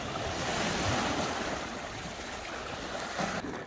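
Waves washing onto the Sea of Galilee shore near Capernaum, a steady broadband surf wash with wind buffeting the microphone, continuous and fairly close with no talk.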